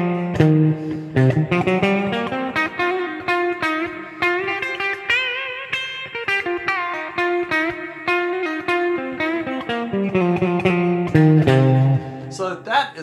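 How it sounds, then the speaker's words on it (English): Distorted electric guitar with effects and reverb runs a blues scale up and down through two octaves, single notes played in a steady stream, loud and close, rising then falling back to the low root. "that's the sound of that scale as you play up and down the pattern"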